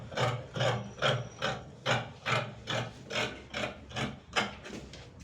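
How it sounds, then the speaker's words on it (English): Scissors snipping through fabric while cutting out a cowl bubu garment, about a dozen evenly spaced crisp cuts in a steady rhythm, close and clear with no voices. "So now I'll bring in my scissors so that we can go ahead and cut."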